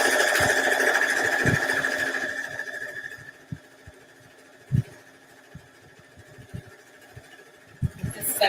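A sewing machine stitching down a quilt: a steady mechanical whirring runs loud for about three seconds, then stops, followed by scattered soft clicks and handling thumps nearby.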